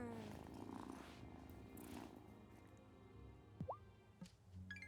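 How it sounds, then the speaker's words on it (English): Soft, steady purring from a cat being petted in the Wylde Flowers video game, low and continuous at close range, with a few faint plops and drips near the end. "You gotta pet the kitty."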